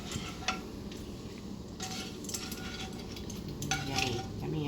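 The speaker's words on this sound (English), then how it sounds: "I'm going to add my shrimp. Go ahead and throw your shrimp in there." Shrimp sizzling in a hot pan while fettuccine alfredo is being made, a steady frying hiss with occasional scrapes and clinks of stirring, fairly quiet and with no talking.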